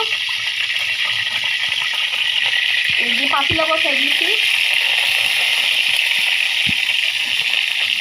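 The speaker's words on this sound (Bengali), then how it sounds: "এটা পেঁয়াজ আর শুকনা মরিচ দিয়ে দিলাম এখানে আজকে শুকনো মরিচ দিয়ে ডালটাকে বাগার দিব আমি" Onion and dried red chili sizzling in hot oil as a tempering for boiled dal, with a steady loud hiss throughout and a few clinks of a utensil against the pan partway through.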